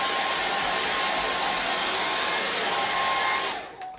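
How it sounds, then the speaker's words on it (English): A hair dryer blows steadily on quick-dry varnish over a charcoal and acrylic portrait painting, a loud, close, continuous whoosh that cuts off near the end. "That's a hairdryer."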